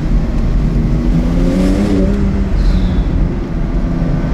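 A Porsche 992 Turbo S accelerating hard, with a loud, steady engine roar mixed with wind and road rumble from inside the cabin and a rising tone in the middle.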